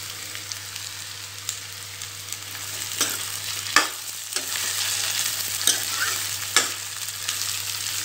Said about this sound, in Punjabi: ਤੇਲ ਗਰਮ ਕਰਕੇ ਮੈਂ ਹੁਣ ਇਹਨਾਂ ਨੂੰ ਥੋੜਾ ਫਰਾਈ ਕਰ ਲਵਾਂਗੀ